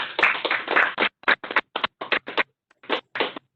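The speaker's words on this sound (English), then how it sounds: "a hearty clap" A short burst of clapping at a formal induction ceremony, a few people applauding in quick uneven claps that thin out and stop after a few seconds.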